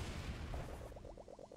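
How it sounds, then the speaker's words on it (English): A bomb detonating in the mining video game Wall World: a muffled low boom that rolls and rumbles for over a second, followed by faint rapid popping crackles, heard alone without talking. "That's the kind of explosion that I like."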